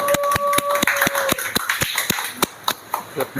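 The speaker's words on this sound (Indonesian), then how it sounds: "Give some noise dong, tepuk tangan, tepuk tangan" Sparse, scattered hand claps from a small audience at an evening talk-show gathering, sharp separate slaps spread through the moment, with a faint tone and brief voice in the background.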